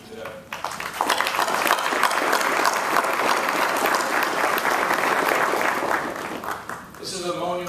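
Sustained audience applause at a New Orleans Police Department academy class ceremony, loud and steady clapping from a large crowd that swells quickly and holds for several seconds before tapering off.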